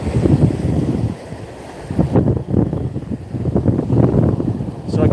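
Strong wind gusts across Pensacola Beach and buffets the microphone with loud, low rumbling bursts that rise and fall unevenly, with a brief lull near the middle.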